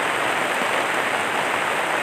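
Rain falling on a mountain trail on Mount Sindoro: a steady, even hiss of rain on surfaces, moderately loud and constant, with no voices.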